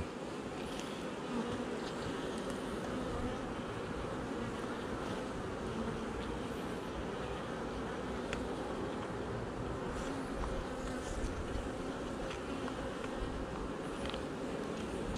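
Honeybees buzz inside a hive, a dense, steady drone that is close and continuous with no pauses.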